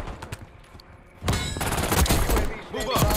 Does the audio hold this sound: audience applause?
no